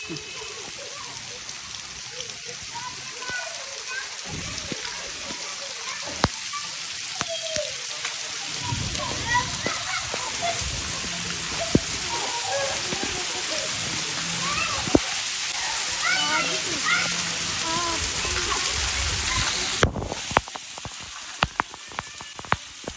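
Heavy rain pours down on a Punjab village, a dense, steady hiss of drops on surfaces with scattered sharper splashes, continuing close and loud throughout while voices come and go in the background.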